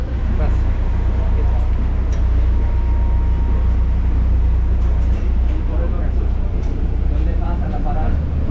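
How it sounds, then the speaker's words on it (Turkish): Steady low engine rumble and road noise inside a moving city bus, with faint background chatter and occasional rattles throughout. "Biz şimdi otobüse biniyoruz"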